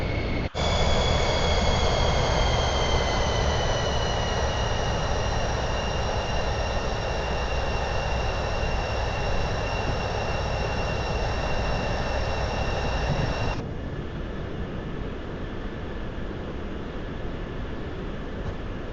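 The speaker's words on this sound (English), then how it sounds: "The engine will slow down and the plane will start to tilt down." Loud, steady roar of a typhoon research plane's aircraft engines with high whining tones, throttling back partway through so the sound drops in level and pitch, continuing at a lower, steadier drone.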